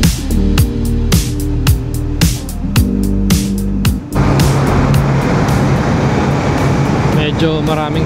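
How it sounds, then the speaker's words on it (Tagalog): Large trucks roar past on a dim early-morning road, heard loud and close from a Kawasaki Z400 motorcycle, with a broad rushing wash of wind and tyre noise taking over partway through. "Medyo maraming truck pala pag mga ganitong oras."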